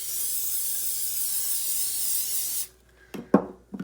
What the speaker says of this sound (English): Take my muffin tin, bit of canola oil spray, and just give it a spray.